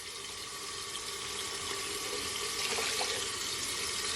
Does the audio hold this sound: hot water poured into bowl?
yes